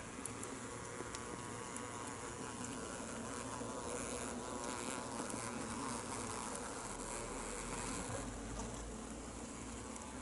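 Honeybees stirring inside a winter hive on a block of sugar candy, a dense continuous buzzing hum, close and steady throughout with no talking.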